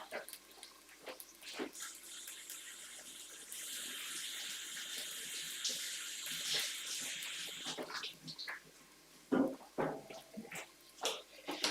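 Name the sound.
washing celery under running tap water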